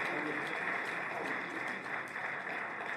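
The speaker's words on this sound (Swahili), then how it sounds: "Kwa heshima kubwa naomba tupige makofi mengi sana" A large audience claps at length for the presidents at the opening of the Mwalimu Nyerere Foundation building: dense, steady applause that fills the whole stretch without letting up.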